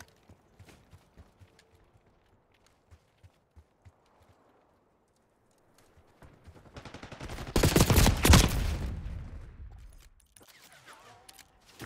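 Gunfire in Call of Duty Black Ops 6 beta: scattered light clicks and taps, then a loud sustained burst of heavy firing that swells and fades, with sparse sounds after.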